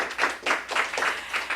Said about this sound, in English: Clap away.